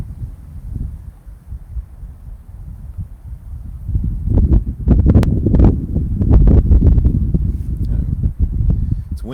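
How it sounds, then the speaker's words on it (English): Gusty wind outdoors buffets a microphone and laptop, low rumbling that swells and grows stronger partway through, with no talk over it. "It's windy out. It's blowing my laptop around."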